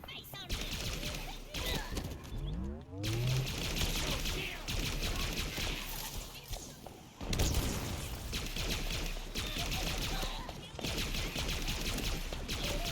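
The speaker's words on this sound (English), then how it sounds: "there are a lot of people out here shooting" Rapid gunfire from many players in a Halo match, dense overlapping bursts of shots and automatic fire, loud and near, with brief pauses and an explosion-like sweep, with talking mixed in.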